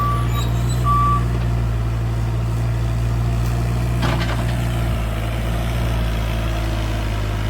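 A Cat 303.5 CR mini excavator, new with about 100 hours, runs steadily while swinging its boom and pushing soil to level ground during forest clearing, its engine a constant nearby drone with hydraulic whine and a brief clank partway through.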